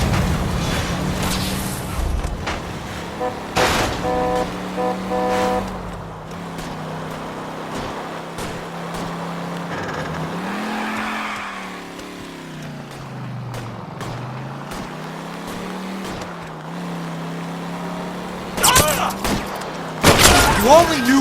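A car driving in L.A. Noire, a steady engine drone rising and falling as it moves, with a few thumps and bumps near the end and voices talking over the drive.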